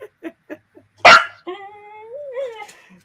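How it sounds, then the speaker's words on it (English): A small dog gives a run of short squeaky yips, then one louder bark followed by drawn-out whining whimpers, close by and with no talk over it. "You need to grow out of that squeaky bark."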